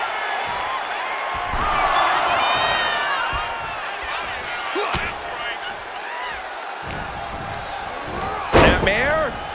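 A snapmare slam in WWE 2K25 lands as a sharp thud over steady crowd noise, with other impacts before it, a loud crunching hit near the end and a commentator talking throughout.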